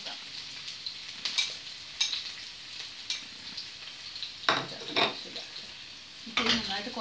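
Ginger and green chillies frying in a non-stick pan over low heat for apple pickle, a steady close sizzle with occasional scraping stirs and utensil clinks against the pan.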